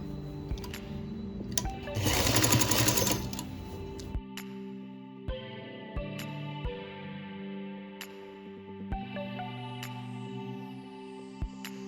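A sewing machine sews a folded neck binding strip onto a baby's bandi vest. One loud burst of rapid stitching is followed by pauses marked by sharp clicks and a low hum.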